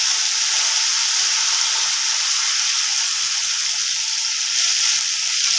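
Loud, continuous close sizzle of hing, curry leaves and finely chopped coriander hitting hot oil, a dense steady hiss with no talk.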